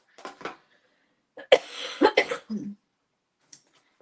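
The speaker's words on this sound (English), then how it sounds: "I have to cough again, honestly." A woman coughing during a stenciling session, a couple of short coughs followed by a harsher, longer coughing burst with throat clearing, then silence apart from a faint click.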